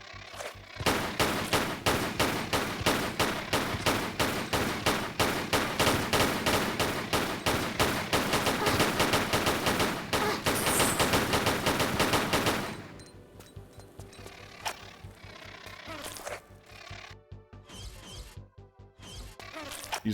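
Rapid gunfire in the video game Tomb Raider 4, with loud, dense bursts of shots hammering steadily for about twelve seconds, then giving way to quieter scattered crashes and clatter.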